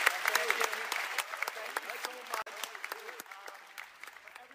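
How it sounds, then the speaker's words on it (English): Scattered audience applause with distinct individual claps, fairly faint and thin, while a voice speaks over it. "Everyone, big round of applause."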